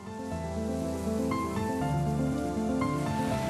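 Heavy rain falls steadily over a harbour in Tongyeong, South Korea, a dense, even hiss of drops with faint tonal sounds beneath, continuous and fairly distant, without voices.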